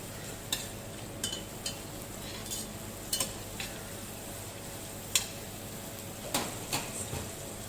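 Vegetable stew with ginger and salt being stirred in a pan, with a steady sizzle underneath and a series of sharp, scattered spoon clicks against the vessel.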